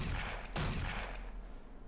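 Gunfire in the Zombie Hunter Inc. game sounds as a short, muffled burst of shots, one sharp blast standing out near the middle, fairly close with no talk.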